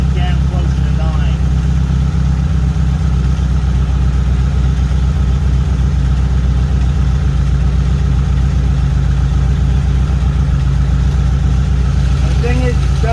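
A car engine fitted with dual Weber 34 ICT carburetors idles steadily throughout, a constant low, even rumble held close and loud while someone talks briefly over it.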